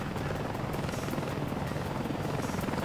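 A helicopter in the Ace Combat: Assault Horizon video game gives off a loud, steady rotor thrum that holds at an even level with no talk over it.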